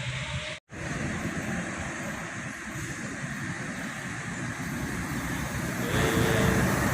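A Mercedes bus engine with a modified exhaust drones steadily and loudly, a broad low rumble that swells slightly toward the end after a brief dropout near the start; no talking.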